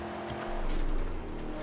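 A car in the Mad Max video game drives with a steady, close engine roar and a rising tone midway, with some tire noise and no talk.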